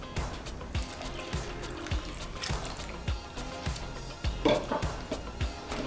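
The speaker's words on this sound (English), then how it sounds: "now we're gonna cover these potatoes with some water" Water poured into a pot of potatoes for potato salad, a steady trickling and splashing fill with repeated soft glugs and drips, close and fairly quiet.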